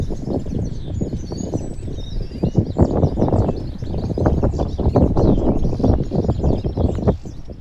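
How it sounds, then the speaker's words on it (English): Many birds chirp and twitter faintly from nearby trees sheltering from the wind near Coalhouse Fort, Essex, partly masked by loud gusting wind and rustling. "all the birds are stuck in there, out of wind. You can hear them all."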